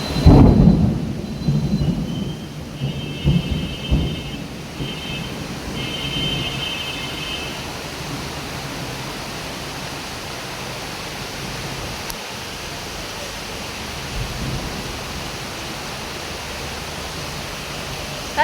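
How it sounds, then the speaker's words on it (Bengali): Heavy rain pours steadily outside a balcony during a thunderstorm, with a loud rumble of thunder near the start easing into a dense, even hiss of downpour. "এত সুন্দর বৃষ্টি আসলে এই মাসে হয় নাই"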